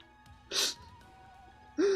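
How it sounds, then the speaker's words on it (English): Two sharp sneezes, the first a bright burst of noise, the second a short voiced sneeze nearly a second later, with quiet room hum between. "Why are you sneezing like that?"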